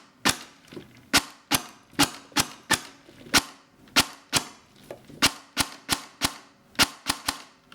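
An airsoft gun fitted with a T238 Griffon tracer unit fires sharp, close, cracking single shots. They come in a fast, fairly regular series of roughly twenty over several seconds, with no talking.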